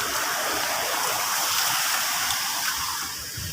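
Water rushes and splashes in a steady, dense broadband gush close by, loud and continuous throughout before easing slightly in the final moments, with no voices.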